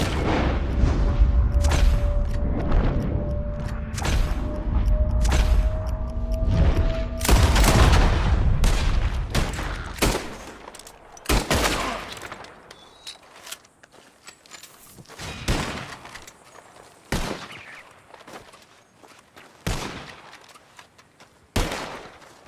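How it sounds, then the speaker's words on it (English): Gunshots fired at birds in Red Dead Redemption 2 start as a dense, booming barrage with footsteps mixed in, then thin out into single sharp shots spaced several seconds apart. "Whoever shoots 4 birds out of the sky first, wins."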